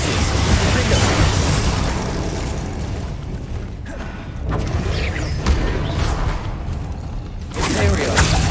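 Bombarda and Confringo spell blasts in the Hogwarts Legacy game boom and burst in loud, dense rumbling waves with whooshes and crackling debris, a voice calling out over the explosions.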